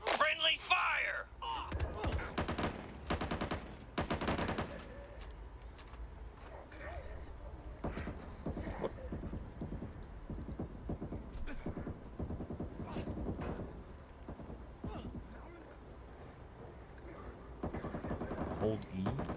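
Gunfire in the zombie shooter Back 4 Blood, sharp bursts and scattered shots under continuous talk from players, near and moderately loud, heaviest in the opening seconds.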